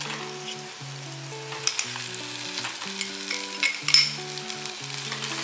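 Roasted eggplant sautés with spices in a pan, a steady low sizzle with occasional spatula scrapes and clinks, over quiet background music.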